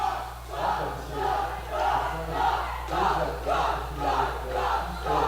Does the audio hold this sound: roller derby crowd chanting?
yes